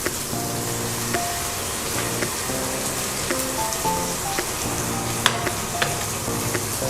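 Ginger garlic paste sizzles and crackles steadily in hot palm oil in a pan for a vegetable pulao, with continuous frying noise, occasional stirring clinks and a faint background hum.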